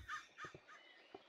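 Crows caw in a Minecraft-style modded video game, with three or four quick harsh caws close together in a short burst and no speech.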